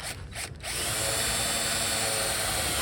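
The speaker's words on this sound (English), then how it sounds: "Drill a hole in it." Power drill bores a hole at a spot weld in a 1974 Ford F250 truck bed floor, a steady close whine running continuously after a couple of short starts.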